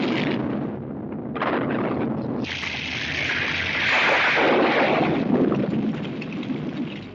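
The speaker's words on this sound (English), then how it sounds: "The exploding Earth shot still hits today." An exploding Earth effect from a 1950s science fiction disaster film delivers a loud, rumbling roar with surging blasts and a sustained roiling rush that swells midway and slowly fades.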